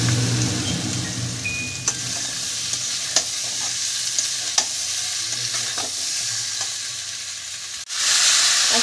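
Boiled potatoes dropped into hot oil in a karai and stirred, a loud continuous sizzle broken by regular sharp scrapes of the spatula against the pan, with no talk.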